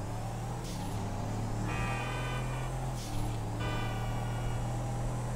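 A Dubsta 6x6 engine in a video game runs steadily with a low rumble throughout, rising in pitch and loudness in two surges as if revving or accelerating.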